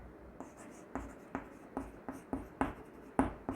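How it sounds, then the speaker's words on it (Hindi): Pen or chalk writing out a math question by hand in a quiet room: a steady run of soft, close scratching strokes with regular taps and no voice. "क्वेश्चन यहाँ लिखते हैं।"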